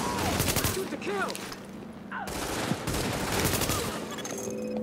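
Dense video-game gunfire from The Division, bursts of shots and automatic fire layered over a busy combat mix, with voices calling out during the firefight.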